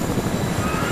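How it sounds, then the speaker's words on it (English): Helicopter in the video game Fortnite, a steady close rotor-and-engine drone with low thudding pulses held throughout, no speech over it. "I'm gonna hop in the helicopter."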